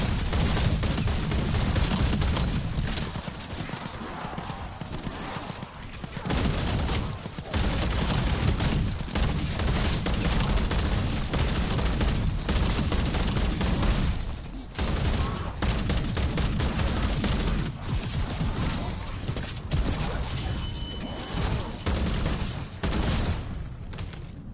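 Heavy, sustained gunfire from a gun in Call of Duty Black Ops 7 Zombies, nearly continuous rapid shots and booming impacts with a few brief pauses, loud and close throughout.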